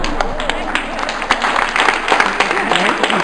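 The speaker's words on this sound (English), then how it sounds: "That always gets a round of applause" A lecture audience breaks into scattered applause after a joke, with quick uneven claps of moderate loudness and a voice mixed in over the short burst.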